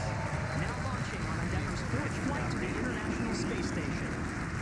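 A SpaceX Falcon 9 with nine Merlin 1D first-stage engines lifts off on the NASA Crew-6 Dragon launch, producing a loud, steady, broadband roar that fills the whole stretch while an announcer speaks over it.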